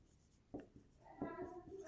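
Pen strokes on paper while writing a math solution, a few faint short scratches under a quiet room, with a brief soft voice.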